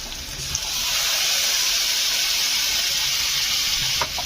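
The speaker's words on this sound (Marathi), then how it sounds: "यामध्ये अजून पाणी ऍड करून" Water poured into a pan of peanut chutney mixture with turmeric, coriander powder and salt sets off a sudden sharp hiss. The sizzle holds steady and close for a few seconds, then cuts off, with no talking.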